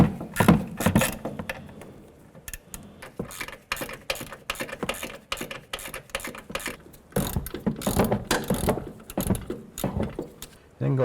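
Hand ratchet tightening the two nuts on the strut bolts of a 2007-2014 Cadillac Escalade front suspension, quick repeated clicking strokes in uneven bursts, close up, with some metallic handling noise.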